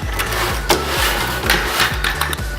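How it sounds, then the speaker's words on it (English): A lid is screwed onto a homemade LEGO vacuum container, making a quick run of rhythmic plastic clicks and ratcheting scrapes from the threads, close up and with no talk. "All you have to do is screw the lid on"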